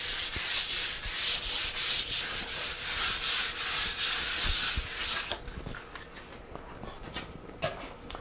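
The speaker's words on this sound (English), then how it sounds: "we're going to have to rough it up just a little bit with some 320 grit sandpaper" Hand sanding of cured, hardened clear epoxy resin with 320 grit sandpaper, a steady close scratchy rubbing for about five seconds that then drops to quieter, sparse scrapes and light handling noises.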